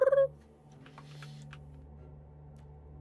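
A pet cat gives a short rolling-R trill, a quick fluttering chirp at the start that fades into a quiet room hum.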